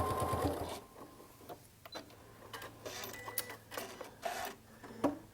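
A sewing machine runs in short bursts of rapid mechanical stitching while reverse-stitching at the bottom of a seam, with brief pauses and light clicks between runs, close and fairly quiet.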